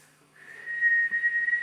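A person whistles in imitation of a father's signal whistle: one clear, close, sustained high note that rises in at the start and then holds steady and loud.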